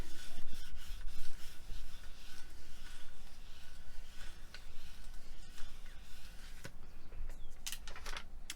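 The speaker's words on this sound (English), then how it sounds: "just give it a little burnish just to make sure it's bonded" Metallic foil being burnished down onto a surface to bond it, a steady close rubbing rasp running continuously through the whole stretch with a few small sharper scrapes.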